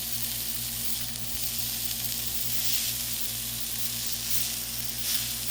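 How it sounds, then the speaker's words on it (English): Thick cut pork chops sizzling on a smoking hot Blackstone griddle set to medium low, a loud, close, continuous frying hiss that swells and eases slightly in waves, with no talking. "So we have us a nice hot griddle going. Yeah, I know it's smoking."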